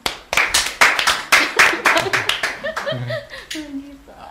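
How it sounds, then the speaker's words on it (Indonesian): Classroom audience of teachers and students clapping on cue, a run of sharp claps with chuckles and laughter, then voices and light talk taking over toward the end. "Izin dulu tepuk tangan boleh sih?"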